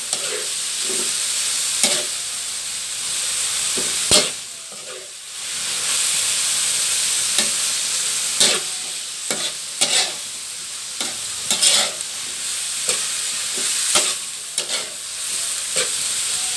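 Carrots stir-fried in a hot pan for pancit, with a loud steady sizzle throughout and repeated scraping and clacking stirring strokes, close and alone with no talk.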